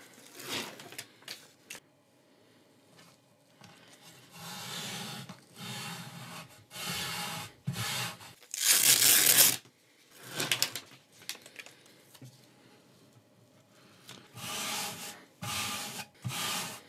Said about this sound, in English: we need to start by adding Velcro to the board